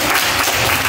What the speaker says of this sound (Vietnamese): vỗ tay cho Trang.